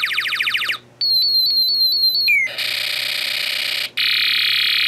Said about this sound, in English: if I wave my hand, I can make it change the sound effects